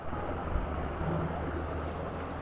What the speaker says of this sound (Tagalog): wala kang ibang maririnig dito is yung huni lang ng ilog